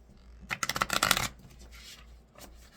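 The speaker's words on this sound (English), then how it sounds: "Okay, one more shuffle just cause." A deck of tarot cards is riffled and shuffled up close in a quick burst of rapid flutters, then a few softer shuffling sounds follow.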